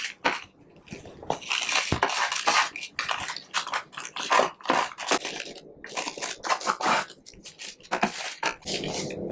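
Kale chips being flipped and spread on a baking pan, with dense crinkly rustling and scraping in close, irregular bursts and no talking.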